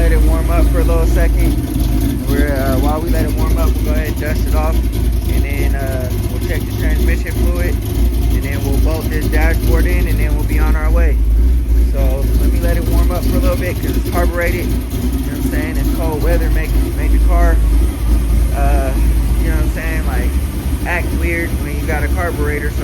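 An El Camino engine warms up at idle with a steady, loud mechanical drone and ticking, an older car with carburetor issues running continuously at close range under faint background clatter.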